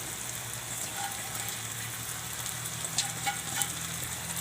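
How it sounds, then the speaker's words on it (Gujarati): Spinach sizzling and frying in a pan for dal palak, a steady soft crackle with a few sharper pops, close and moderate in level, no voices. "આપણે બધી પાલક નાખી દઈશું."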